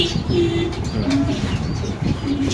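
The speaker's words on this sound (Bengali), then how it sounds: "এখানে আছে একটা মাক্সি রেসার কবুতর" A racing pigeon coos softly and repeatedly close by, with low rolling calls and a few faint chirps in the background.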